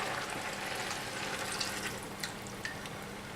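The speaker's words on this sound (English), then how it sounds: "500 ml of bone broth in." Bone broth poured into cooked mince for a cottage pie: a steady liquid splash and trickle running throughout, with a few small drips and clinks near the end.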